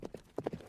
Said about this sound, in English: the final round is going to be a galloping horse.